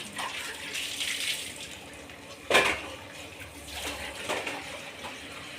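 Water runs from a household tap into a container, a steady broadband rush with a sharp splashing burst partway through and a few swells near the end, fairly close and without talk.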